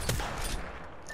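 Gunfire in Apex Legends: a quick burst of loud, sharp shots crack at the start and then fade into a noisy game mix within about a second.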